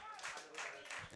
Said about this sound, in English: Crowd clapping.